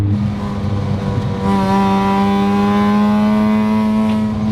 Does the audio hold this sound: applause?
no